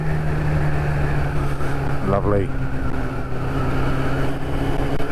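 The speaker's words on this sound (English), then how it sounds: "It's got an excellent engine noise," A green Kawasaki ZX6-R motorcycle engine holds a steady, loud drone throughout, with a voice speaking briefly over it.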